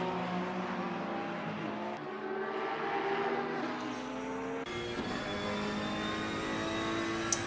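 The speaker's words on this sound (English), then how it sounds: "As the Sporting Motorsports car comes rolling by." A GT3 race car in a sim racing game at Donington Park roars with a steady, high engine drone that shifts pitch through gear changes, loud and continuous, with a brief squeal near the end.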